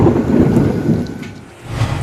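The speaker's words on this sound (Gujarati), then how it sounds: "બપોર બાદ અમદાવાદમાં આજે પણ મેઘગર્જના થઈ." Thunder rumbles loud and close during a rainstorm in Ahmedabad, a heavy low roll that briefly eases then swells again over steady rain hiss.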